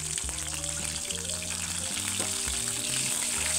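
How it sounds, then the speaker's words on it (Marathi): Salt-stuffed eggplants fry in hot oil with a dense, constant sizzle and crackle, close and steady throughout, alongside faint low tonal sounds, with no talking. "आता आपण मीठ भरलेलं वांगे त्याच्यामध्ये तळून काढायचं."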